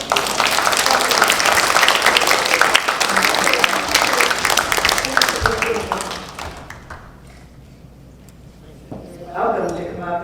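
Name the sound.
audience applause for a guest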